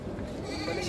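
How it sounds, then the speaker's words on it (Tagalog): Goats bought for slaughter bleat at a livestock market in Padre Garcia, Batangas. A brief, close, nasal bleat fills the short moment against a busy background. "Ang daming kambing na naman ito."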